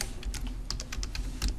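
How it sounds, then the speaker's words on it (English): Steady typing on a computer keyboard while text is entered into a Word document, a run of a dozen or so crisp, close key clicks in an irregular rhythm with no voice. "type some text"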